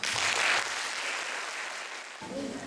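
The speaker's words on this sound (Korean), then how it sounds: "여러분들 박수 한번 주십시오" Students and audience at a regional preliminary of the 10th 'My Dream' speech contest applaud: a continuous wash of clapping from start to finish that eases slightly toward the end, with a faint voice near the close.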